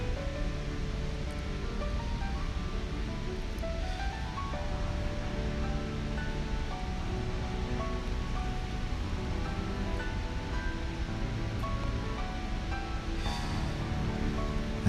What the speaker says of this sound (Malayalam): വെള്ളം ഒഴിക്കുന്നുണ്ട്.